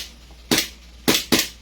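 An airsoft M4A1 Carbine RIS rifle fires three sharp, close pops: a single shot, a pause, then two quick shots in succession, each snapping out against a quiet background.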